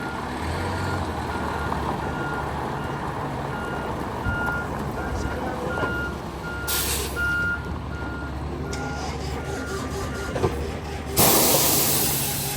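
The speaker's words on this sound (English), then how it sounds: "This is a conveyor truck, guys. It's got a conveyor belt on it. It's a rear load truck." A rear-load conveyor truck's reversing alarm beeps steadily in a repeating pattern over a loud diesel engine rumble, with bursts of hissing air near the end.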